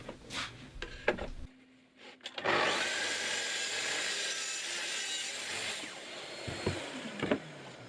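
A saw cuts through wood for the top rail of a wardrobe, making a loud, sustained rasping roar for several seconds, with knocks and handling sounds before and after the cut.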